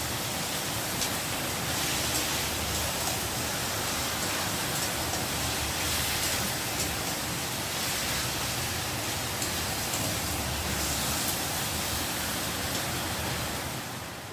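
Chicken marinated with salt, turmeric and chili sizzles as it is sautéed (kosha) in a pan, giving a continuous, even hiss of frying at moderate volume with no talking.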